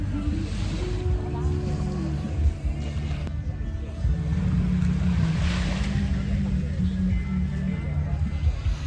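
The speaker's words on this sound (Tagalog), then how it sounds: "Ito yung harap ng dagat." Waves wash onto a crowded beach shore at Laki Beach, Mariveles, Bataan, beneath a steady low rumble of wind and a busy crowd murmuring in the background.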